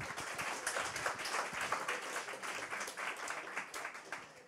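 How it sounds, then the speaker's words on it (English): Applause during a greenhouse horticulture live stream, dense and steady across the whole stretch, sounding like many hands clapping at moderate distance. "give an applause to yourself"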